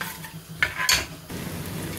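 Onions fry and brown in hot oil for mash ki daal, a soft sizzle broken by a couple of sharp clinks and scrapes of a spoon stirring the pan.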